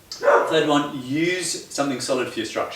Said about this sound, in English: Excuse the dogs. They found something to bark at.